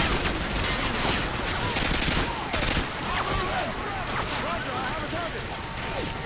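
Rapid gunfire bursts in the video game Modern Warfare 2, dense automatic shots crackling continuously with voices talking over the battle.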